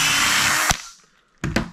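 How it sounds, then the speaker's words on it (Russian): A power drill with a 5 mm bit whirs steadily into material while fitting guides under a countertop sink, then stops abruptly; after a brief pause, two short loud bursts of drilling follow up close. "То есть мы сверлим сверлом диаметром 5 мм."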